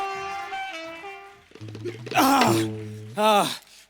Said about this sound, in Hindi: ट्रेन आ गई, ट्रेन आ गई, ट्रेन पकड़ो, ट्रेन।